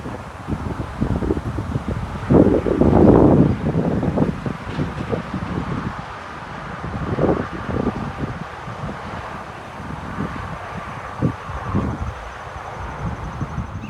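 Gusty wind rumbles and buffets against the microphone at an outdoor wine festival in Yorktown, rising and falling in uneven bursts throughout, with no voices.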